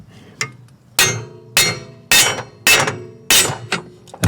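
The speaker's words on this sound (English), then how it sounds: "Now with the mighty hammer," A hammer strikes a stuck strut while coilovers go into a GR86. Six loud, close metallic blows land at a steady, roughly half-second rhythm, each with a short ringing tail.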